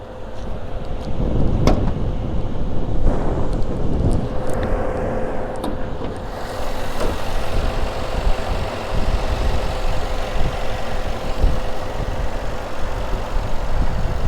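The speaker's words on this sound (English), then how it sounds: "Now let's take a look at the V8 bi-turbo engine." A 2019 Mercedes-Benz GLS63 AMG 4Matic with a V8 bi-turbo engine idles steadily, a low, smooth, continuous rumble heard up close, with a few faint clicks early on and no talking.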